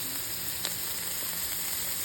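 Chicken and turkey burger patties for Haitian-style burgers sizzle steadily in a hot pan, a dense, even crackle of frying with a few sharper pops and no talk.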